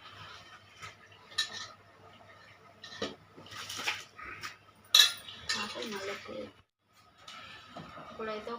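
Rice stirred in a pot of boiling water for chicken dum biryani, with intermittent metal spoon clinks and scrapes against the vessel, close up, alongside some brief talking.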